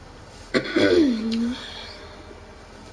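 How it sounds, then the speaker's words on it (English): One person clears their throat once, a gravelly, effortful rasp lasting about a second, close to the microphone and loud, then quiet. "I'm literally trying to clear my throat,"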